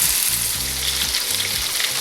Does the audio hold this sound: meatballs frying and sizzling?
yes